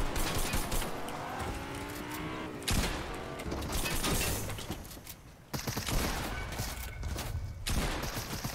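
Gunshots in a video game shooter come as sustained, loud bursts of rapid firing. Sharp breaks near three and five and a half seconds lead into fresh volleys.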